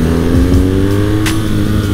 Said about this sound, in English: just listen to that boxer sound just bounce off these walls